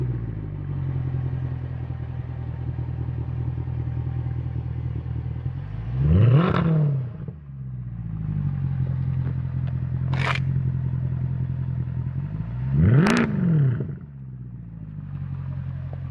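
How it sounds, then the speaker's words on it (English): A Mercedes-AMG C63 sits at a deep, steady idle, broken twice by sharp revs that flare and fall back, with a brief click between them, close to the exhaust. "Get ready to start the car and let you take a look at what comes out the exhaust."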